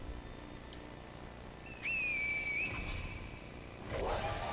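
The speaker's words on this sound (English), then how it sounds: "I'm gonna try the finger whistle" A sharp, rising finger whistle in Sekiro: Shadows Die Twice rings out once, holding steady for about a second over a constant background hum, followed by a swell of noise.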